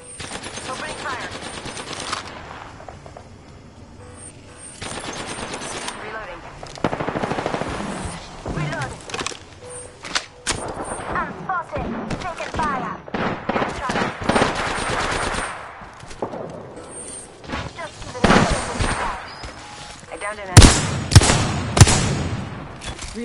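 Rapid automatic gunfire in Apex Legends comes in repeated loud bursts and crackling volleys across a battle-royale match. Brief quieter gaps and mixed game effects fall between bursts, with louder shots near the end.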